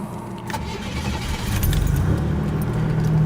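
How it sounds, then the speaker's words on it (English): A 1987 Buick Grand National engine idling roughly with a steady low rumble that swells slightly toward the end, a metallic keys-like jingle early on, no talking. "Right now it's got 8 gallons in it, but it idles terribly bad."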